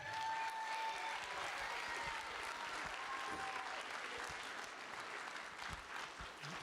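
Audience at a school band holiday concert applauds, dense clapping from many hands that starts strong and gradually thins toward the end, with faint crowd murmur underneath.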